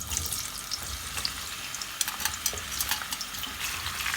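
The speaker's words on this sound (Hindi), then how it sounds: "अब हमने टिंडों को फ्राई करना है" Chopped tinda (round gourd) pieces frying in hot cooking oil, a steady close sizzle with crackling pops and occasional stirring, no voices.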